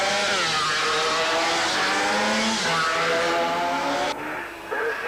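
Superbikes race past at the North West 200 road race in 1989, engines screaming loud and near with rising then falling pitch, a second machine following closely before the roar cuts away.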